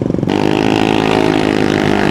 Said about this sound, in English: Itu motor berisik doang ya Allah